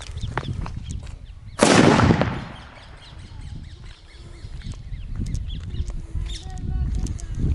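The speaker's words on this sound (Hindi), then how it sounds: "इनको टायर के अंदर लगा दिया है, वो वाली सूतली जल रही है।" A sutli firecracker tucked inside a bike tyre goes off in a single loud, sharp blast with a brief rushing decay. Quieter outdoor background noise and faint bird-like calls surround it.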